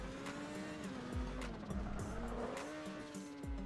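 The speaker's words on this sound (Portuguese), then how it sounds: "Ah, derrapou, velho." Tires squeal and skid as a tuned car races in GTA 5, a continuous screeching whine over a roaring engine, with short sliding squeals recurring throughout, loud and close.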